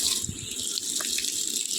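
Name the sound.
water running from a tap into containers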